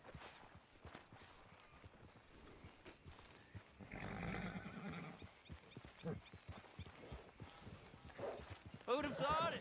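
Horse hooves clip-clop at a trot in Red Dead Redemption 2, mixed with game ambience and music, with a louder burst near the middle and a brief whinny-like call at the end; voices talk intermittently over it.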